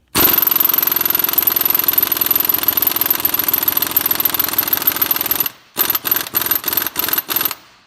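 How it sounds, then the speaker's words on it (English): An impact gun with a power socket and flywheel attachment hammers on the crank bolt of a 2005 Acura MDX, one loud continuous rattling burst of about five seconds, then several short bursts in quick succession. "Let's see if the power socket will break the crank bolt loose with this extra flywheel attachment."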